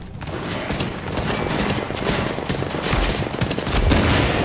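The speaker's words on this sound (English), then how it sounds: "Man, that stupid machine gun." Dense, continuous automatic gunfire from a machine gun in the video game The Division, a loud, rapid rattling barrage of overlapping shots that runs without a break and sits close and dominant in the mix.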